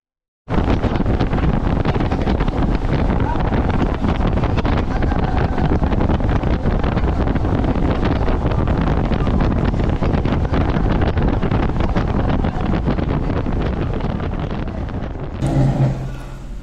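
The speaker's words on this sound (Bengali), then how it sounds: "আমরা 20-25 মিনিট বোট জার্নি করে আমরা চলে এলাম আমাদের সেই আকাঙ্ক্ষিত প্রাইভেট আইল্যান্ড ওলু ভ্যালিতে" A boat runs for about 20 to 25 minutes toward the private island of Olhuveli in the Maldives, and heavy wind buffets the microphone the whole time. The roar stays loud and steady and eases off near the end.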